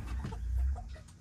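A rooster on a farm animal sanctuary gives a few close, low clucks.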